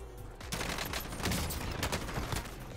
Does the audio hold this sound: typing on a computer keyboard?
no